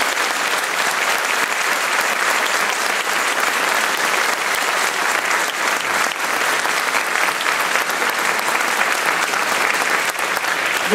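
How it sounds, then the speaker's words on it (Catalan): Sustained, loud applause from a large audience at a Valencian folk dance performance, steady and dense throughout without pause. "Un aplaudiment per a"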